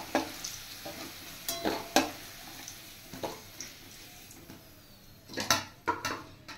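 Fried potatoes with salt and turmeric being lifted out of the pan, a quiet sizzle with a series of sharp spatula scrapes and clacks, a cluster of them toward the end.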